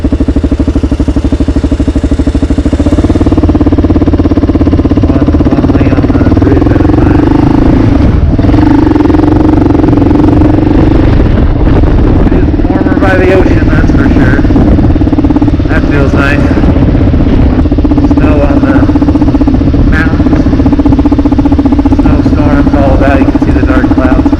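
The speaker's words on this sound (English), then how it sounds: "we decided to take a motorcycle ride" A KLR650 or XR650 motorcycle engine drones loudly and continuously while riding on an icy, snowy day, shifting pitch as it accelerates, with wind buffeting and voices under the noise.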